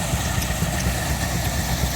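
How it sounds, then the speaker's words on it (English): Steam engine driving a long belt at an antique restored machinery show: a steady, loud mechanical churn with a low throb and faint regular knocks, no voices. "Steam engine's working its magic."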